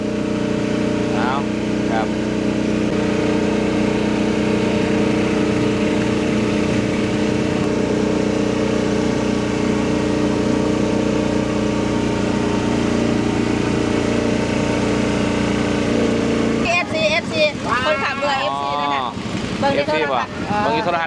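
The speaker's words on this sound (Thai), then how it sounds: "เสียงเรือดังแน่เด้อตอนนี้ครับ" A boat engine drones loudly and steadily, close and continuous, heard from on board, with someone talking over it near the end.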